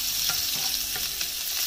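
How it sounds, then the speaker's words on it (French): Onions browning in a hot pan for lasagne, a continuous close sizzle with light rhythmic stirring scrapes every fraction of a second. "je vais rajouter les oignons. Je vais les laisser dorer un tout petit peu"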